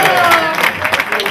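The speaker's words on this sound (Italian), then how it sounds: "Michele, un applauso a Michele." Brief loud clapping and cheering from a crowd greeting a team representative at a Christmas event, with voices calling out over the applause.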